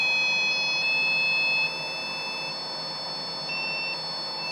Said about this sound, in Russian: Стоит мерзкий писк такой.